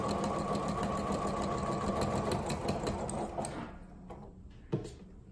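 A sewing machine with a quarter-inch presser foot stitches fabric in a rapid, even whir of needle strokes for about three seconds, then slows and stops, followed by a few small clicks and a soft knock.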